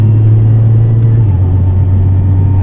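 A Nissan GT-R R35 tuned to about 1300 horsepower, heard from inside the car, gives a loud steady low engine drone that drops slightly in pitch partway through, as if easing off under engine braking.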